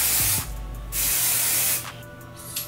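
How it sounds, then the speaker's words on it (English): Garnier Fructis hairspray sprays in two short, loud, hissing bursts from an aerosol can, with a brief pause between them. "when I do, the Garnier Fructis, the bomb"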